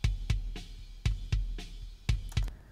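Live kick drum from a concert recording, captured on two microphones: isolated deep thumps in an uneven rhythm, around eight hits with some quick doubles, each with a sharp attack and short boomy decay, close and alone.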